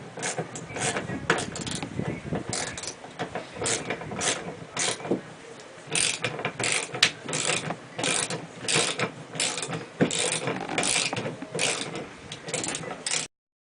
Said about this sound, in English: Take your wrench and continue tightening to the wall.